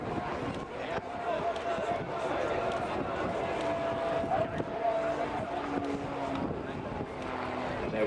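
An RAF Grob Tutor light aircraft makes a display pass at an air show, its engine droning steadily at a distance under continuous commentary from a speaker.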